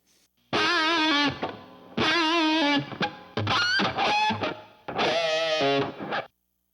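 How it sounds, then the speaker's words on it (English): Distorted electric guitar in the style of Van Halen's 5150 playing phrases with a short, roomy Lexicon PCM60 reverb and a touch of delay trailing each note, heard alone. "It's kind of a shorter reverb that sounds almost like a room, kind of."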